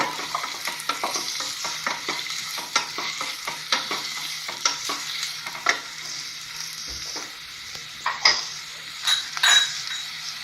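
Shallots fry in hot oil for a Kerala-style prawn roast, with a steady close sizzle broken by frequent scrapes and clinks of a stirring spoon against the pan.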